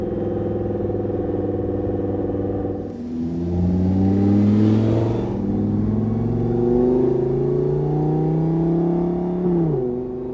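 A rebuilt, previously totaled Audi R8 with a DCT gearbox accelerates hard on a test drive, engine pitch climbing through gears with a rising whine and a sharp shift change near the end, heard from inside the car.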